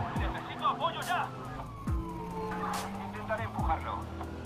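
Police car sirens wail in the video game Watch Dogs, a repeating falling siren tone with engine noise and radio chatter mixed in, moderately loud and close.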